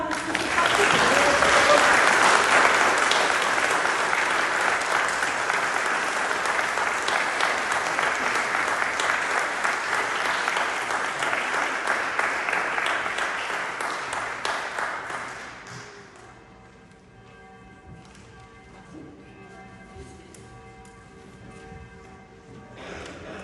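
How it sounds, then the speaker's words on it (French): A church congregation applauds Léona at a Protestant confirmation service in Mertzwiller, loud sustained clapping for about fifteen seconds that then fades off, leaving a quieter room with a tonal sound lingering. "on peut encore t'applaudir, Léona"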